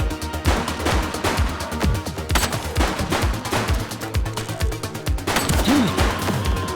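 Gunfire in the police video game The Precinct comes as rapid, loud bursts of shots in dense volleys, with echoing cracks overlapping almost continuously.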